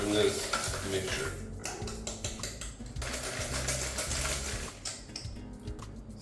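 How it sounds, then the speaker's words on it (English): Granulated and brown sugar are stirred into butter for chocolate chip cookie dough in a bowl, with a spoon scraping and knocking against the bowl in an uneven rhythm, close and moderately quiet. "So let's just mix so it's all one homogeneous mixture."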